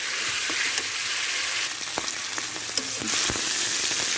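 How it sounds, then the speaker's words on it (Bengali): Pieces of magur catfish fry in hot oil in a pan, giving a steady, close, bright sizzle throughout with a few faint scrapes and clicks, and no talking. "মাছটা ভালো করে মাংসের মতো কষে নিতে হবে"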